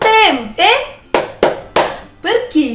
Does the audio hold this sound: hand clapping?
yes